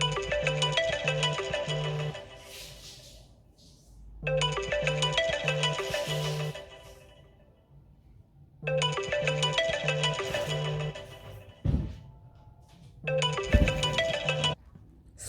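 A phone ringtone from an unknown caller plays a repeating melodic pattern in four bursts, each about two seconds long and split by short pauses, moderately quiet and with no speech over it.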